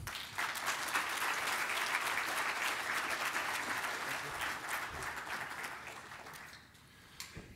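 An audience at a 2019 Croatian-American gathering in Cleveland applauds to welcome speaker Elvis Grbac with steady, even clapping that fades out toward the end.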